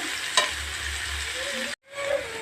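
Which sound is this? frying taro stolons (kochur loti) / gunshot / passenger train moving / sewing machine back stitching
frying taro stolons (kochur loti)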